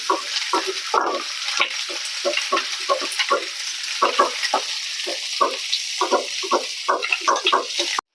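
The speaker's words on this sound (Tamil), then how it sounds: "பீர்க்கங்காய் பார்த்தீங்கன்னா இந்த அளவுக்கு வதக்கிக்கோங்க." Ridge gourd peel sautés in a pan for chutney, with rhythmic scraping strokes of a spatula over a bright, continuous sizzle. The stirring repeats in quick bursts and there is no talking.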